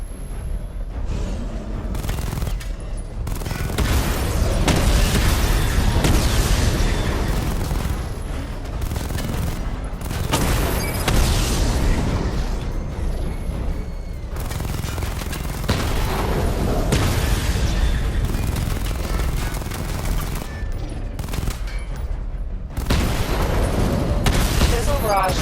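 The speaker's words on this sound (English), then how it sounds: "Charge the missile barrage to level 2 to destroy up to 4 targets at once." A missile barrage fires in Batman: Arkham Knight, with a dense, continuous string of loud blasts and bursts pounding for the whole stretch, while a voice speaks over the barrage.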